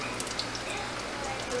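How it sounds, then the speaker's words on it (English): Battered squash frying in grease in a home kitchen, a steady close crackle and pop of sizzling oil with faint speech in the background. "just let them fry on each side"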